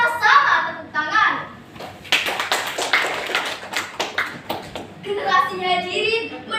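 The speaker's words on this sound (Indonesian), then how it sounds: "Ayo kita bakar semangat bersama-sama, tepuk tangan." An audience at an Indonesian religious lecture claps hands together in a burst of quick, sharp claps between stretches of a speaker's voice.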